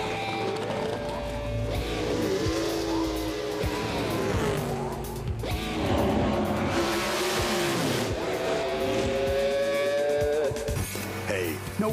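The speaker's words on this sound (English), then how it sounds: "The only thing better than trucks is racing trucks." NASCAR Craftsman Truck Series racing trucks on the oval at Bristol: several engines roar and whine at once, pitches sweeping up and down as the trucks pass close by, with loud, continuous, overlapping engine noise.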